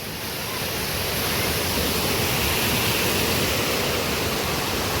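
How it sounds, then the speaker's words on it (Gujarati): Water from an overflowing village pond pours past in a steady, loud, continuous rush, rain falling lightly nearby, with no break across the whole stretch. "મસ્ત તળાવ સલકાઈને જાય છે"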